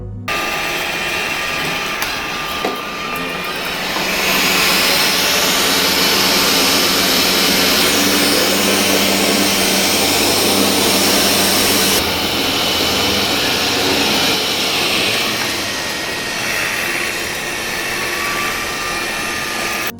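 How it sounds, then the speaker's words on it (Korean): A Dreame X9 robot vacuum cleaner roars steadily at high suction, its loud whirring drone continuing without pause and shifting in pitch partway through as suction automatically boosts on carpet. "온으로 할 경우 카펫에 올라갔을 때 흡입력이 자동으로 상승합니다"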